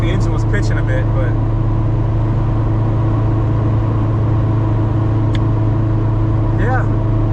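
A B-series engine-swapped Honda Civic on the move, a steady loud low engine drone and road rumble filling the cabin throughout, with a brief high squeak near the end and a voice speaking over it at the start.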